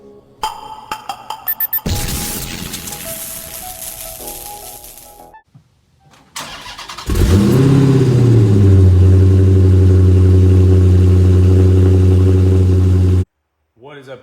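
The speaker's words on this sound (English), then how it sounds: "Last cold start with the stock exhaust." A Dodge Challenger Scat Pack with its stock exhaust cold-starts after a few clicks and a short crank, bursting into a loud, steady high idle that holds for several seconds before cutting off abruptly.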